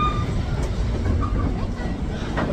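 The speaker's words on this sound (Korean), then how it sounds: "공항으로 가는 공항철도 타고 있습니다" Riding aboard an airport railway train, a steady rumbling ride noise with faint clatter fills the carriage continuously, loud and close, with no clear talk.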